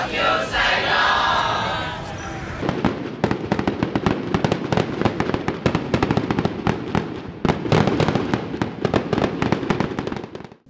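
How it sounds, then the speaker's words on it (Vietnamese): Fireworks burst in a dense, rapid crackling barrage during a music video finale over Saigon, loud and continuous after a brief opening swell. "với những nụ cười cùng những bông pháo hoa tỏa sáng khắp bầu trời ở phần kết"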